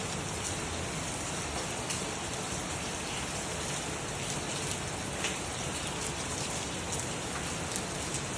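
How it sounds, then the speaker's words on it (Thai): Summer rain in Roi Et, Thailand, falling steadily for over ten minutes, a dense, even hiss of drops across the full stretch with faint patters on surfaces, constant in loudness and without any talking. "ฝนก็ตกเนี่ย"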